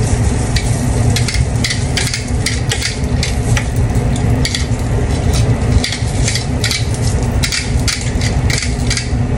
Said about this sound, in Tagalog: malapit na po maluto po yung aking inihaw na hotdog dito sa kawali